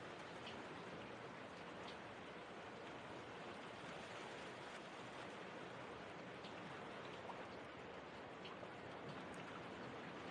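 Steady rain falls in an outdoor scene of a Japanese live-action drama, an even, continuous hiss of drops on surfaces that stays constant throughout with no voices.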